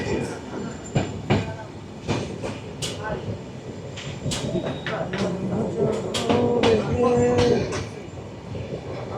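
An express train on the Dhaka to Faridpur line runs on without stopping past Talma station, rumbling and clacking steadily at close range while a voice talks over it.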